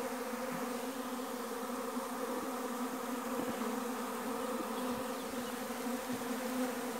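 Honeybees from a weak hive hum steadily and closely throughout, a continuous, even drone with no pauses and no voices.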